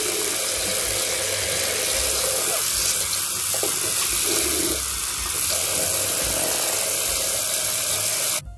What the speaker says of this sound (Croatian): lepo jednostavno isperete slavinu